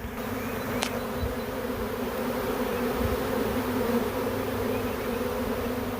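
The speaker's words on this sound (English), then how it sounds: "It's kind of like so relaxing listening to them buzz around." A honey bee swarm buzzes continuously around, a dense, even drone of many wings close by, with a brief sharp tick early on and no voices.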